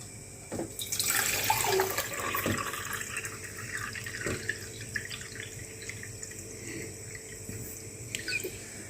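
Half a litre of water pours from a tap or jug into a cooking pot for making kisiel, a steady splashing stream that rises in the first couple of seconds and then settles into a quieter trickle, close by.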